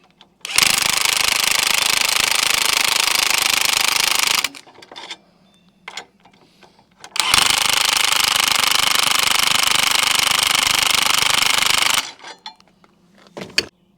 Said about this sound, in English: Had to switch to my 1/2-inch impact because my other impact battery died